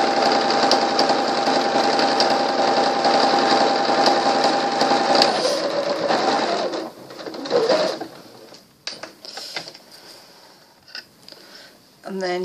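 Sewing machine stitching a vintage lace needle case, a steady loud mechanical whir running for about six seconds, then slowing and stopping into quieter handling noises and brief bursts.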